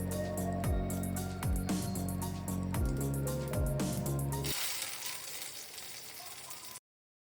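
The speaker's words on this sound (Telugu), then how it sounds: "కొంచెం ఆయిల్ వేసుకుని ఎండుమిర్చి, ఆవాలు, జీలకర్ర, మినప్పప్పు, పచ్చిశనగపప్పు అన్నీ వేసుకుని తాలింపు పెట్టుకోవాలి." Dried red chillies, mustard seeds, cumin and lentils sizzle in hot oil for a tempering, a crackling fry that runs for several seconds over a steady tonal hum before dropping to a quieter hiss.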